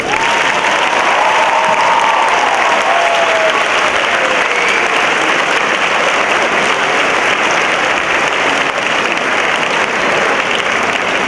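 A large school audience applauds Representative John Lewis at West Potomac High School, loud dense clapping sustained without pause for over ten seconds, with faint cheers and voices mixed in.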